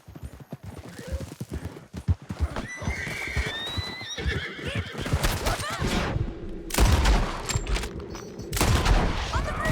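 A horse in Red Dead Redemption 2 gallops with steady rhythmic hoofbeats, neighs sharply partway through, and bursts of gunfire join in, with voices shouting over the action.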